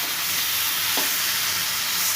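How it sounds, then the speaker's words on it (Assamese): Potatoes frying in a pan, a loud dense sizzle filling the short stretch, close and continuous with one faint scrape partway through. "চাওক আলুখিনি ভাজি হৈছে"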